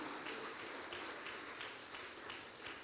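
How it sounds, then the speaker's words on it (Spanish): Congregation applause during a church sermon, a steady dense wash of clapping held at an even level for about three seconds with no voices over it. "Dale un aplauso al Rey"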